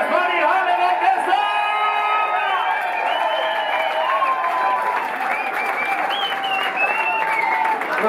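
Concert audience at a show at New Morning in Paris applauding and cheering, with sustained clapping, scattered whoops and shouts, and crowd voices mixed in throughout.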